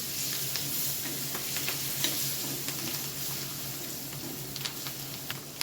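Coriander and curry leaves frying in a pan over low heat with chilli powder and turmeric, giving a steady soft sizzle with small scattered crackles and light stirring, no voices.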